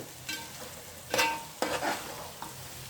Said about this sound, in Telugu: ఇప్పుడు మనం చికెన్ ఫ్రై అయిపోయిందండి